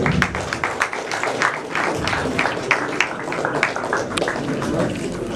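Clapping from a crowd, a dense patter of hands that carries on steadily throughout, with some voices mixed in.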